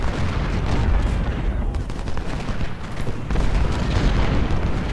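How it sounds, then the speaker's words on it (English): Artillery and rifle fire in Ultimate General: Civil War at the First Battle of Bull Run, a loud, dense, continuous rumble of booms and crackling gunshots across the whole stretch, with a voice faintly beneath. "If possible, Wilcox, can you shoot down their artillery?"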